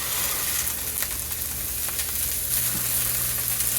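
Frozen peas fry in hot oil in a pan, making a steady, loud, close sizzle and crackle throughout with light stirring noises and no talking.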